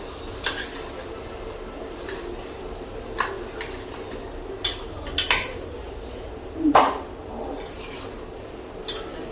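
A spoon stirs chicken masala with ginger-garlic paste in a metal pot, producing scattered metallic scrapes and clinks against the pot over a low background hum, close by, with no speech.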